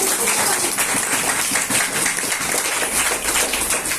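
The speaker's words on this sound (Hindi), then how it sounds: "जोरदार ताली आप लोग।" Audience at a sales meeting claps loudly and continuously, a close, dense wash of many hands with no pause for about four seconds.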